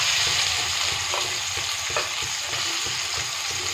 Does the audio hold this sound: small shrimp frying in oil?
yes